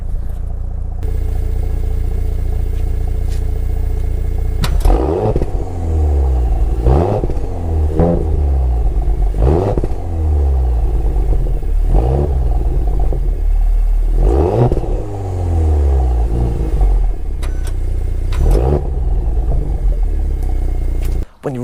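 Audi S4 Avant engine idling with a deep steady rumble, punctuated by repeated sharp revs that rise and fall about every two seconds, close and loud throughout.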